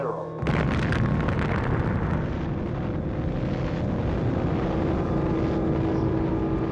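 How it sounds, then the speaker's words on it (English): A first atomic bomb detonation, a sudden heavy blast that swells into a long, loud, sustained roar and rumble with no letup. "the first atomic bomb was detonated"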